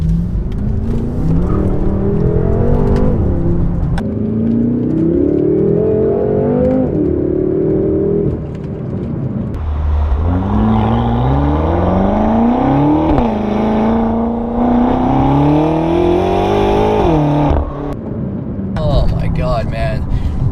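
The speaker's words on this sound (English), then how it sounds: "So now in second gear, listen to that." A BMW M6 Gran Coupe Competition engine revs hard in second gear, pitch climbing and dropping through quick dual-clutch shifts, loud and close, with a brief lull before winding up again.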